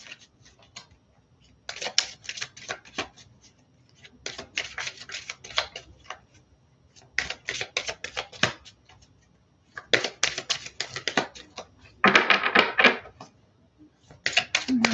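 A deck of tarot cards is shuffled for a love reading, making soft, crisp riffling and flicking bursts in irregular clusters with short pauses between them, close and fairly quiet.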